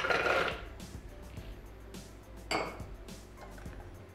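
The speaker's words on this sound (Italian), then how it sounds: "Aggiungiamo le mandorle" Almonds poured into a Thermomix bowl, a burst of rattling, clinking hard pieces at the start and another brief spill midway, close and fairly quiet, with light clinks between and no talking.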